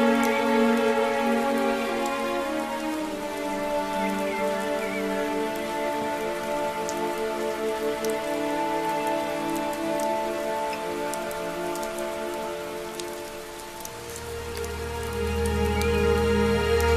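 Steady rain pattering on surfaces, a continuous close hiss of drops lasting the whole stretch, layered under sustained soft instrumental music that swells toward the end.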